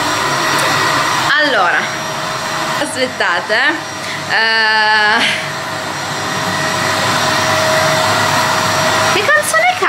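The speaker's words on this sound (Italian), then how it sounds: "Anche l'aspirapolvere si rifiuta di sentirmi cantare." A vacuum cleaner drones steadily throughout, with someone talking and singing over it and a few brief clattering bumps.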